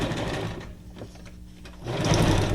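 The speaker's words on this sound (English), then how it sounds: "I should be able to sew on the bookmark itself" A sewing machine stitches a bookmark under pedal control, a close mechanical whir that runs, slows to a near stop midway, then speeds back up loudly.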